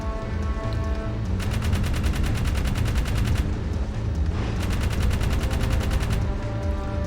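Rapid bursts of vehicle-mounted gunfire in Jak 3, fired from a slow, tank-like vehicle; two long sustained volleys over a continuous rumbling engine and action din, with no talk.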